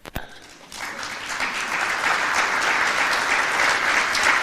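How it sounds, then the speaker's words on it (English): An audience at an African trade union congress in Nairobi bursts into steady applause after a brief pause, building into a dense, sustained wash of clapping that holds loud and even to the end. "And I'm going to clap."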